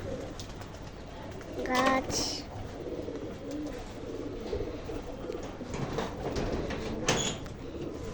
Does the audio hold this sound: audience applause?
no